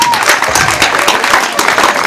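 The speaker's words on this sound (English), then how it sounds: "Let's clap for that man." Girls' secondary school career day crowd clapping together, a loud continuous burst of applause with a murmur of voices mixed in.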